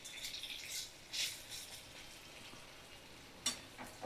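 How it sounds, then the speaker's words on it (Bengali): Chana dal bori frying in hot oil as the pieces are turned, a quiet crackling sizzle with a few brief louder bursts and spatters, heard alone. "প্রত্যেকটা বড়ি এইভাবে উল্টে পাল্টে ভাজা করে নেব"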